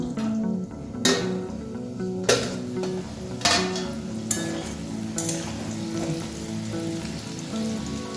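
Potatoes fry in a pan for a vegetarian potol curry, a steady low sizzle punctuated by four or five loud scraping stirs of a spatula against the metal, close up and without speech.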